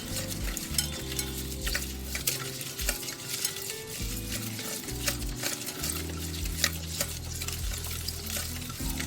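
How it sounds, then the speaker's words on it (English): Eggs and sugar are whisked by hand for red velvet Belgian waffle batter, giving a steady, continuous rapid clinking and scraping in a bowl, close and alone. "Then all you do is whisk, whisk, whisk. Combining the eggs and sugar is like a therapy."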